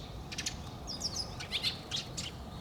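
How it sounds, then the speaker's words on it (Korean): Sparrows chirp in short, bright bursts at a park playground where pigeons also gather, several quick calls spread across a few seconds against a low rumbling background, with no voices. "참새도 다시 날라왔다"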